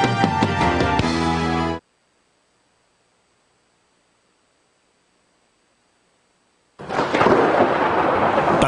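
A thunderstorm with heavy rain comes in loud and close as a broad, roaring wash at the end, after a burst of tonal sound and a stretch of near silence.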